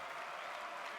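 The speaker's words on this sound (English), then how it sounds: "A round of applause from the in-game sound effects, but also from chat here." Brief, faint burst of crowd applause sound effect from the VR game Blaston, heard as a soft, steady patter of clapping for about a second.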